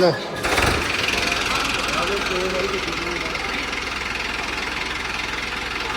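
A tractor engine runs steadily with a continuous throbbing, knocking rumble at close range, after a brief bump at the start, while a person speaks over it.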